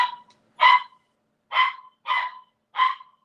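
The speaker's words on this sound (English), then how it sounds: "See that bark right there?" A dog barks five times in short, sharp bursts spaced about half a second to a second apart, fairly close and clear with quiet gaps between, no talking.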